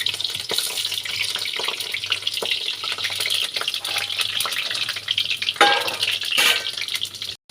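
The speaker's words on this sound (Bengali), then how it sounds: "দিয়ে আমি যে দুটো ছোট ছোট আলু কেটে নিয়েছি সেই দুটোকে একটু ভেজে নেব।" Small cut potatoes frying in hot oil with bay leaves, a steady sizzle and crackle running throughout with a few clinks and stirring sounds, fairly close.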